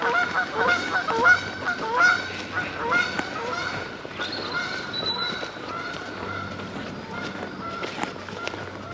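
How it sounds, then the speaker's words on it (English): Canada geese honk loudly and repeatedly nearby, a busy overlapping chorus of calls over rustling movement as they take off, thinning toward the end. "Canada geese will shout at me and then take off."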